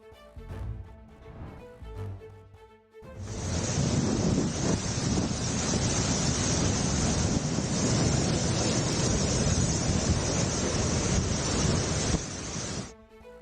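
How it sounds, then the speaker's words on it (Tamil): Strong wind with heavy rain lashes a rough sea at Kakinada, Andhra Pradesh, a loud, dense, continuous roar of gusting wind and surf after a brief quieter opening, cutting off abruptly near the end. "ஆந்திர மாநிலம் காக்கிநாடாவில் பலத்த காற்றுடன் வெளுத்து வாங்கும் கனமழை. பலத்த காற்று வீசுவதால் கடல் கொந்தளிப்புடன் காணப்படுகிறது."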